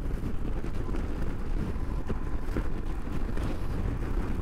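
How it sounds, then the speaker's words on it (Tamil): Heavy rain and strong wind buffet a rider on a Royal Enfield Himalayan BS6 motorcycle, a dense continuous roar of wind noise over the microphone with engine rumble beneath, loud and unbroken. "மழை ஸ்டார்ட் ஆகிடுச்சு, சரியான காற்று"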